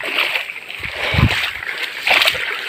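Feet splashing and sloshing through a shallow jungle river, with a few wet splashes over flowing water and outdoor ambience.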